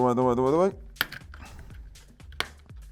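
Plastic case of a Geotex R10i Pro X3 TV box being pried open with opening tools: a voice at first, then a few sharp, scattered clicks and snaps close up.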